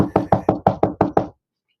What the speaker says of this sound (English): I'm knocking on my desk.